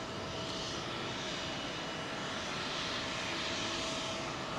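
A Qantas airliner on runway 27L at London Heathrow gives off a loud, steady engine roar, close and sustained throughout with no letup.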